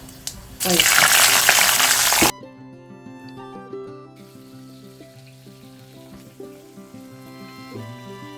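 Panch phoron and slit green chillies hitting hot oil, a sudden loud hissing sizzle that lasts under two seconds and then stops, followed by quiet background music.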